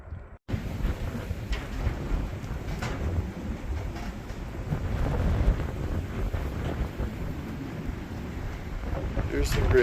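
Wind buffets the microphone high on a mountain near Titlis above the tree line, a loud, gusty rumble that swells and eases throughout, with a voice faintly audible beneath it.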